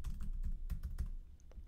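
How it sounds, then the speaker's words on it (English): Computer keyboard typing, a burst of close, uneven keystrokes with a few louder taps and short pauses, heard alone without talk. "as you start typing things in"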